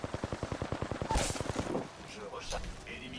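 Rapid automatic gunfire in the Apex Legends video game, a steady stream of sharp shots for under two seconds before it breaks off into quieter scattered battle noise.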